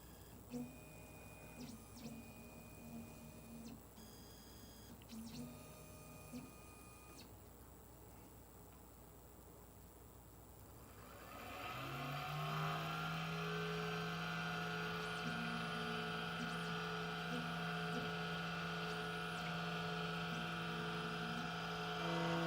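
A key cutting machine gauging the position of a Honda key gives a faint mechanical hum and soft ticking, then a louder steady motor drone with a low tonal whine that runs continuously to the end.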